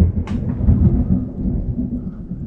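Thunder from a nearby lightning strike rumbles low and steady under rain, with a brief sharper crack early on and no talk.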